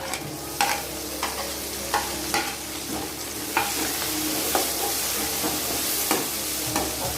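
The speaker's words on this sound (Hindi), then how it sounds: "मटर को ऑयल में ही डालती है ताकि हल्की सॉफ्ट हो जाती है ऑयल के साथ।" Tomatoes and green chillies frying with peas in hot oil for matar paneer, a steady sizzle broken by regular scraping strokes of a spoon stirring the pan, close and clear with no voices.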